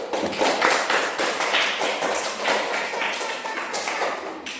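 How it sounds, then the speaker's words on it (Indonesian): A classroom of children clapping hands together, a dense burst of many overlapping claps that stays steady and loud for several seconds with no voices over it. "Tepuk tangan dulu."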